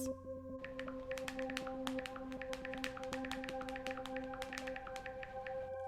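Rapid, irregular clicking taps of fresh acrylic nails on a phone screen, dozens of sharp close ticks over a steady background hum and faint tonal drone, continuing without pause.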